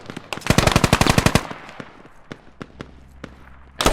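A machine gun in the tactical shooter Squad fires a rapid, loud, close burst of about a dozen rounds, then a few scattered, more distant single shots follow with gaps between them.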